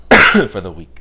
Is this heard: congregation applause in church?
no